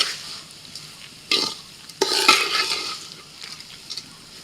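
Rice fries in a pan with vegetables, a soft sizzle under clattering strokes as a spoon stirs and scrapes, with two louder bursts of stirring and crackling in the middle.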